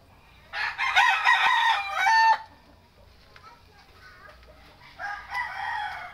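A very thin chicken being dewormed lets out a loud, strained crow-like call, followed after a quiet pause by a second shorter, fainter call.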